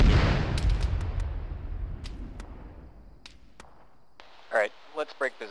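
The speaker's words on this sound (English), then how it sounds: "Mortars incoming." Incoming mortar shells in the ShackTac military video game land with a heavy, decaying boom at the start, followed by sharp distant cracks and later a few short voice-like bursts.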